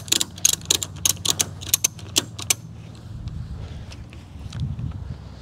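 Ratchet tie-down straps cinched to secure a Vespa scooter on a trailer, a quick series of sharp metallic clicks and rattles close by, then quieter rustling and shuffling.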